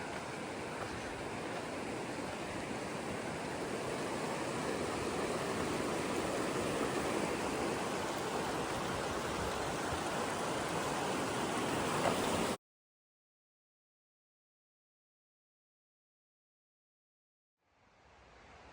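Rushing water of Roaring River at a bridge in Kings Canyon, a steady loud broadband roar for about twelve seconds, then abrupt silence before faint sound returns near the end.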